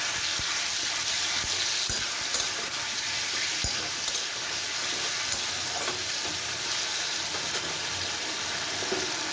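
Tomato paste sizzles among fried potatoes in a pan, a dense, even crackle and hiss that runs throughout with occasional soft taps of a spatula.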